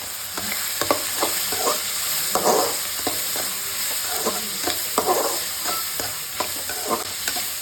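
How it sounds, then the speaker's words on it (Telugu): Okra (lady finger) frying in a pan, a continuous bright sizzle with repeated spoon scrapes and taps as it is stirred, close and steady with no voices. "ఇది బాగా ఫ్రై చేసుకుంటాము"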